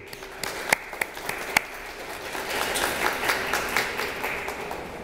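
An audience applauds grant recipients at a Thunder Bay Health Sciences Foundation care grants event, a few sharp individual claps giving way to steady, moderately loud clapping from a room of people.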